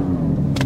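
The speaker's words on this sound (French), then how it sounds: "Et puis ce démarrage." Porsche 911 Sport Classic engine catching and starting, a steady low mechanical hum with a brief bright burst near the end, close and loud with no talk.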